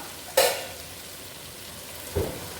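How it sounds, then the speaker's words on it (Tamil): Cooked rice is stirred into chicken fried rice with cabbage in a hot pan. Two short scraping, sizzling bursts of the spatula stand out over a soft, steady frying hiss. "சாதத்தை சேர்த்துட்டு பைய கிண்டி விடணும்"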